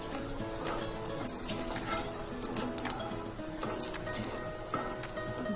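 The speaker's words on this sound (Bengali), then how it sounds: "ভাজতে হবে খুব ভালো করে।" Tomato paste fries in a hot pan, giving a faint, steady sizzle with light crackling and some stirring scrapes, all fairly low in level and continuous.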